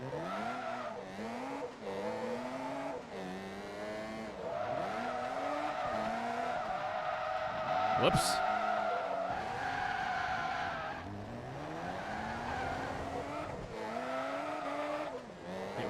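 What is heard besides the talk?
race car tires skidding in the video game Forza Motorsport 2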